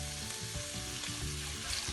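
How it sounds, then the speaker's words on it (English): Sliced onions hit a hot pan over a high flame for tofu stir-fry noodles, crackling in a loud, continuous close-up sizzle with slight stirring pulses. "Now I'm going to add these onions to it,"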